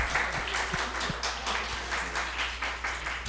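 Audience applause at a Vimalakirti Sutra talk: steady, moderately loud clapping from many hands, with no talk over it.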